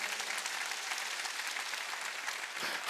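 A congregation claps together during a Sunday church service, a quiet but steady wash of many hands sounding from a distance, with no speech over it.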